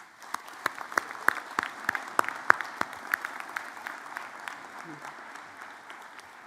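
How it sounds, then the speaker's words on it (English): An audience at a university convocation ceremony applauds, with sharp individual claps standing out over a thinner spread of clapping that holds steady and then gradually fades. "Let's give them a round of applause"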